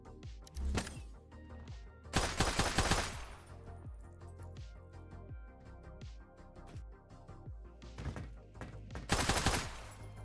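Rapid automatic gunfire in the in-development shooter Project Onyx, with several loud bursts of shots spaced through the clip between quieter clattering impacts.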